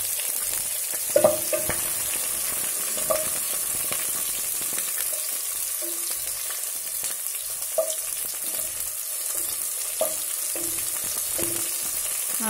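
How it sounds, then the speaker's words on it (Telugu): Finely chopped onions and green chillies fry in a pan, a constant close sizzle with occasional stirring scrapes and a few spoon taps against the metal, with no talking. "ఆనియన్స్ కూడా వేగుతున్నాయి"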